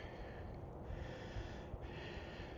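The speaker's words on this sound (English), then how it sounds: "Okay, yeah, I'm breathing hard, so what?" Heavy, labored breathing from a hiker climbing uphill on a Columbia River Gorge trail, faint rhythmic puffs and snorts over steady outdoor wind noise.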